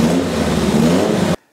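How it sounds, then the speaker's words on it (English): A classic car engine with a freshly rebuilt Weber carburetor runs at a steady, even idle, with slight valve noise. The close, constant hum continues alone, then cuts off abruptly near the end. "now the engine is running really well"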